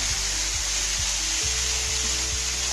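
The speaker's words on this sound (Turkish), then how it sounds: "karıştırıyorum şimdi" Carrots cook in a pan under a dense, constant sizzle, with a low hum underneath and soft, regular scrapes of stirring close by.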